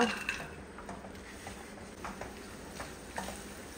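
Almonds and cashews fry in ghee for carrot halwa, a steady soft sizzle with light scraping and ticking stir strokes, close and moderately quiet throughout.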